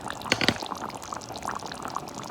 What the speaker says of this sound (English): see how well the pieces and how it's bubbling inside my mud pot